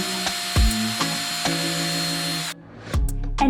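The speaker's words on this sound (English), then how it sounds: "So you need a drill." A power drill whirs steadily for a couple of seconds while making holes in a coconut shell, then stops, followed by a few short knocks and scrapes.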